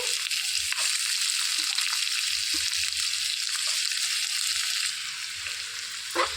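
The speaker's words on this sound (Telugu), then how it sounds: "సిమ్లో పెట్టుకొని వేయించుకోవాలండి" Thinly sliced onions fry in oil in a pan over low flame, a steady, even sizzle and hiss close up, with a couple of soft clicks of stirring and no talk.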